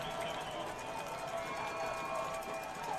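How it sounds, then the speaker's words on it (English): Football crowd at a Fordham game before a field goal kick, a steady loud roar of many voices, with a voice talking over it. "The Fordham crowd getting loud."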